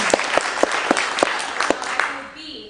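Scattered audience applause with a few sharp, distinct claps standing out in a rough rhythm, fading within a few seconds.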